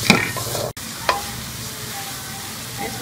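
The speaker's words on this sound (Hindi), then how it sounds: "2 से 3 मिनट हम अच्छी तरह से इसे चिकन के साथ भूनेंगे" Chicken kachori filling is stir-fried in a pan: a scrape of the spatula at the start, then a soft continuous sizzle with another brief stirring scrape.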